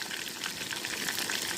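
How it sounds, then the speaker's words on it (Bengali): Food fries in mustard oil in a pan on a wood-fired stove, giving a close, continuous sizzle with fine crackling that stays even for the whole short moment, with no talk. "এই যে গরিবের রোস্ট হচ্ছে সরিষার তেলে।"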